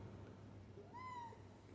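A single short, quiet cat meow rises and falls about midway, heard close by against steady low room noise with no talk.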